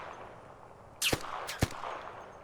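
Two sharp gunshots ring out about half a second apart, loud and close, over a faint background hum, in the video game ARC Raiders.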